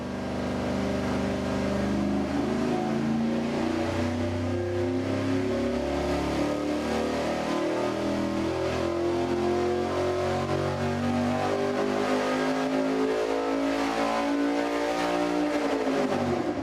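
A loud engine on a test dyno idles and revs continuously, testing reduced rotating mass, its pitch rising and falling in steady swells with no talk.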